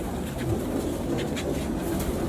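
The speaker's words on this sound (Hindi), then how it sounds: "ले जी लाल बादशाह कबूतर" A Lal Badshah breed pigeon coos softly among other pigeons at a flying-pigeon loft, low muffled calls repeating over faint background noise.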